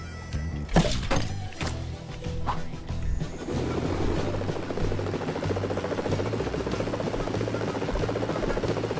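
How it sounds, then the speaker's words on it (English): Helicopter in LEGO Worlds taking off after a few thumps, then a steady rotor and engine drone holding loud and continuous throughout. "our new helicopter."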